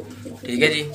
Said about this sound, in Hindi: और जिस भी दोस्त भाई को चाहिए हो ये जोड़ों वाले कबूतर